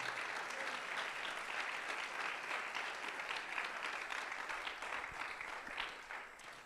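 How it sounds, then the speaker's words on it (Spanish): A church congregation claps steadily after a prayer, dense continuous applause filling the room throughout, close and loud, with no speech over it. "Dele un aplauso al Señor"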